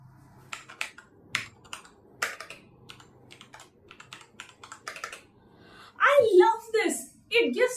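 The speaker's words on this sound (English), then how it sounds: "such a whole old school typewriter kind of vibe. The whole clackety clack feel" Crisp clacky keystrokes on a mechanical keyboard tap in an uneven rhythm up close, then a person starts talking over the last bits of typing.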